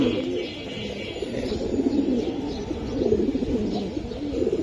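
Silver Giribaz pigeons cooing in a crowded loft, a continuous chorus of low rolling coos from many birds close by.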